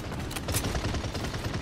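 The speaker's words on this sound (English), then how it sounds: "This guy doesn't stop shooting at me." Video game gunfire in Paladins, with a dense, continuous rattle of shots at moderate loudness for a brief moment.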